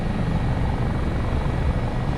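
Continuous heavy rotor thrum and turbine whine from an HH-65 Dolphin Coast Guard helicopter flying over Valdez, Alaska in Microsoft Flight Simulator 2024, loud and constant, with no voices.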